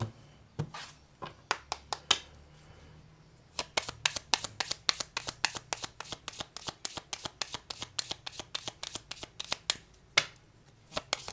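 Tarot cards being shuffled close up, with a few loose riffles followed by a long run of quick, sharp, even flicks, loud and crisp with no talk over them.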